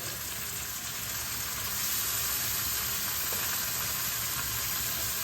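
Soaked chana dal goes into hot fried spices for a Bengali cholar dal with kochu, giving a steady, dense sizzle that holds at an even loudness throughout with no voices.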